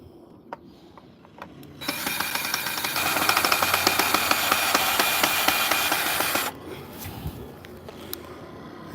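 Screw gun driving Phillips head screws into wood outdoors during backyard garden prep, one loud continuous whirring run of several seconds with clicking, between quieter ambient moments.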